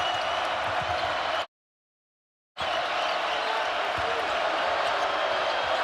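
Crowd noise in a college basketball arena during a Michigan versus Maryland game, a loud, sustained roar of cheering and clapping broken by a brief silent gap, with sneaker and ball sounds underneath.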